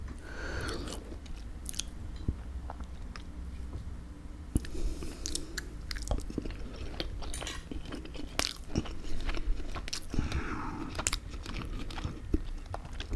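Close, crisp chewing and crunching of garlic and herb salmon with salt and pepper chips, steady bites and mastication running throughout with no talk.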